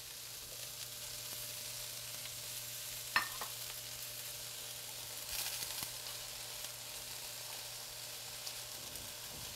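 Peas and spinach stirred into cooked eggplant in a pan, a faint steady sizzle under occasional soft scrapes and one sharp tap of the utensil.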